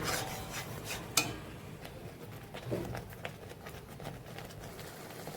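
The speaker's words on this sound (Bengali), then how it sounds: "টক দই দিয়ে আবারও মশলাটাকে ভালো করে নাড়তে হবে" Spoon scraping and rubbing through thick curry masala mixed with sour yogurt in a pan, soft gritty strokes with a light knock near the start, close and fairly quiet, with no talking.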